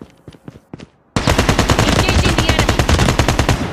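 Video game gunfire: a few scattered shots, then a sudden loud, sustained burst of rapid automatic fire rattling on without pause, close and harsh.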